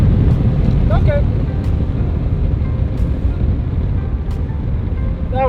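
A V12 Mercedes accelerating hard with traction control kicking in, heard as a loud, continuous engine roar blended with heavy wind rush that holds steady throughout.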